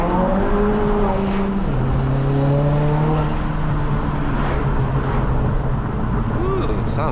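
The engine of a fully built, modified 2022 Honda Civic Si drones loudly from inside the car while driving, its tone shifting as it pulls through the revs under steady road noise, with people talking.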